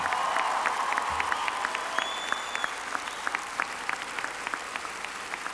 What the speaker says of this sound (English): the graduates should applaud those in the audience who have supported them through the years